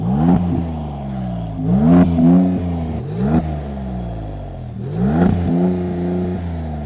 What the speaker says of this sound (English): So that's what an MC20 sounds like. You just heard it right there. You heard the idle, you heard some revs